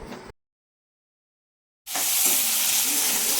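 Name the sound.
onion roasting in a pan for Malvani paneer masala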